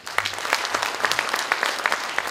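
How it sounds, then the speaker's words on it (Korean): Audience applause at a political party convention electing a leader in Daejeon, a brisk burst of many hands clapping with distinct sharp claps standing out, moderately loud and without speech. "손 대표를 위해서 박수를 한번 보내주십시오"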